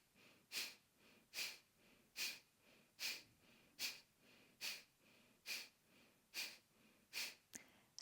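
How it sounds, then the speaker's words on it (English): Rapid, rhythmic breath-of-fire yoga breathing performed in cobra pose, a run of about a dozen sharp, forceful exhales at an even pace, close and clear with no talking. "and then start breath of fire"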